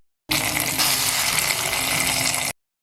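Fried mustard seed tempering is poured into a Kerala-style tomato curry, setting off a loud, continuous hissing sizzle and gush that starts abruptly and cuts off after about two seconds, with no talking.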